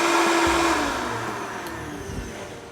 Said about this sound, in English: So I'm going to blend this full power till it's super smooth.